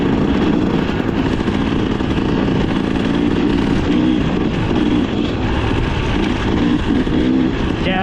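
A KTM XCW 300 two-stroke dirt bike fitted with a quiet exhaust insert runs steadily at close range, a continuous buzzing engine drone held at a fairly even level throughout with no talking.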